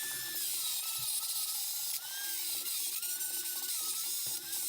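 A high-speed router deburrs and cleans up an archway in an engine block, with a continuous loud whine and grinding scrapes that rise and fall as the bit bites into the metal in short passes.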